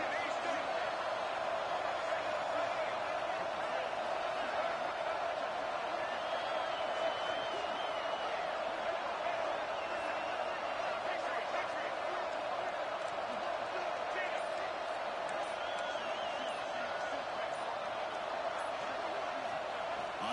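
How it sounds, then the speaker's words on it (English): A packed college football stadium crowd at Oregon vs Michigan roars continuously as the home defense tries for a red zone stop, a dense, steady wash of noise with a commentator talking over it. "This crowd is trying to inspire this defense to make a big red zone stop."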